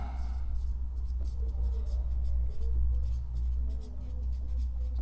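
Marker or chalk scratches across a classroom board in short strokes, close and fairly quiet, under a man explaining a rectangle perimeter problem in Turkish.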